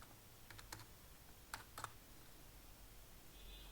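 A few sparse keystrokes on a computer keyboard, light clicks in small clusters, faint and close against quiet room hiss.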